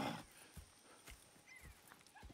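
Horses in Red Dead Redemption 2 clopping at a slow walk, with soft, irregular hoof thuds under light ambient background and a faint whinny-like tone.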